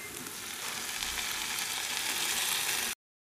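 Ginger and garlic fry in a hot pan, a dense, continuous sizzle holding steady and fairly loud for about three seconds before cutting off abruptly.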